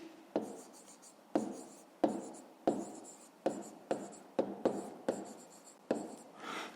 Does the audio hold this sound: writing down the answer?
yes